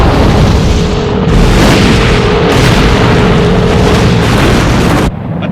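A blown gas field explodes in a television sound effect: a loud, sustained roaring boom with deep rumbling that holds for about five seconds before cutting off abruptly.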